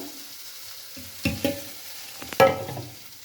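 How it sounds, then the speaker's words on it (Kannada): Rice and urad dal batter with cumin and salt being mixed for akki dosa: mostly quiet, broken by a few short, close scraping stirs, with two clearer strokes in the middle and near the end. "ಎರಡಿಗೆ ಮಿಕ್ಸ್ ಮಾಡ್ತೀನಿ ನೋಡಿ"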